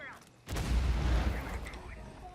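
Gunfire erupts during a Rainbow Six firefight in a T1 versus GUTS Gaming APAC League match, a sudden loud burst followed by a sustained rumbling roar of shots and impacts that slowly fades.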